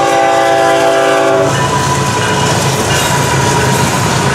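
A Florida East Coast Railway freight train's horn blares briefly, then gives way to the loud, continuous rumble and clatter of the train rolling past close by.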